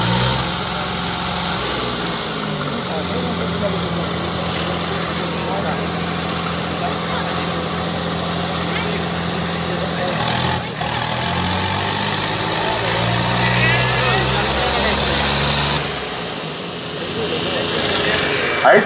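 Tractors such as a John Deere 5310, Swaraj 855FE, Sonalika 60 and Preet 6049 in a tochan tug-of-war contest, engines held at a loud, steady, straining full-throttle roar with brief surges, continuous and close.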